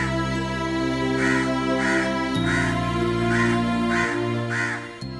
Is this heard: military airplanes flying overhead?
no